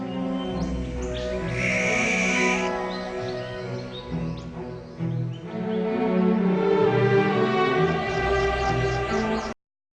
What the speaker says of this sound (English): Every bird species sings its own particular song